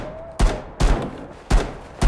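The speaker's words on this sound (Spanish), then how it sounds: "¡Le pegué 10 tiros!" Gunfire in a zombie video game: four loud, sharp shots fired at uneven intervals, each a punchy crack with a short decaying tail, close and alone without speech.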